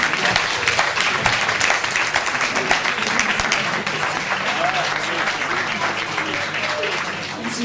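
Audience at a slavery remembrance conference-debate claps loudly and continuously in a dense, sustained round of applause that tapers slightly toward the end.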